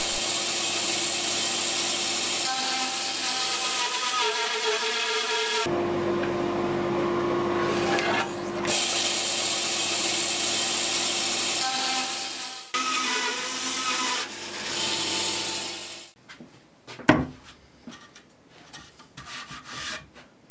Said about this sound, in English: I start off by rough cutting my larch timber